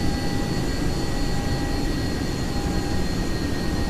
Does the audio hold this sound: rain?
no